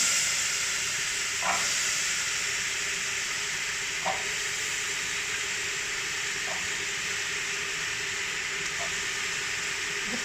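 Steady sizzling of small diced potatoes sautéing in a pan, a constant hiss with a few faint scrapes of stirring at intervals.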